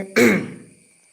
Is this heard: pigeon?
no